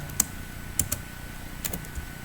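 A handful of crisp keystrokes on a computer keyboard, isolated clicks spaced unevenly over a steady room hiss, close and fairly quiet.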